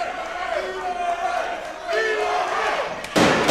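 Wrestling crowd at a CCW Bash at the Brew show in Miami cheers and shouts in a steady roar, with scattered voices rising above and a louder swell near the end.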